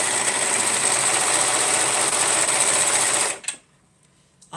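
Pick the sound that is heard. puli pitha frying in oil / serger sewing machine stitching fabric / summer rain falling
serger sewing machine stitching fabric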